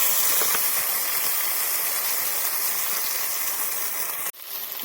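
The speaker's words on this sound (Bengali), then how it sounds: "ভালো করে ভেজে নেব।" Oil hisses steadily in a pan while ingredients fry for a potato curry with cabbage fritters, a dense, even sizzle that holds loud and close, then drops out briefly just before the end.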